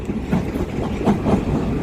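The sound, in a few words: Long Island Rail Road M9 train arriving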